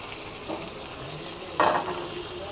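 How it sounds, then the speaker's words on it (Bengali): Banana flower fries with spices in a pan, giving a continuous sizzle that is broken by a louder burst of stirring and scraping partway through. "এটা দিয়ে মশলা দিয়ে নাড়াচাড়া করব এবং ভাজতে থাকবো"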